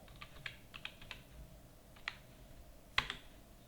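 Sparse, faint keystrokes tap on a computer keyboard while a PAN number is entered into Tally Prime accounting software, with uneven pauses and one sharper key press near the end in a quiet room.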